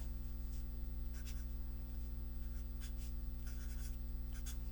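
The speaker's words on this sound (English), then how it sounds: "I will write it down." A pen writing on paper, faint scratchy strokes in short irregular bursts over a steady low electrical hum, with no talk.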